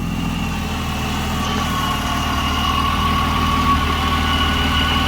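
A Nissan 350Z/G35 engine idling while warming up: a steady, close mechanical hum with a low throb and a faint whine, running evenly throughout with no voices.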